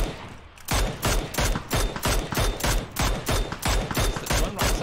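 Rapid automatic gunfire in a video game, about a dozen loud close bursts in a fast steady rhythm after a short quiet lead-in.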